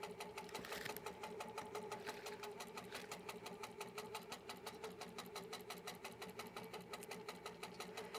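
An HQ Pro-Stitcher computerized quilting machine stitching clamshell designs across a quilt, a fast, even mechanical chatter of needle strokes over a steady motor hum, continuous and moderately quiet.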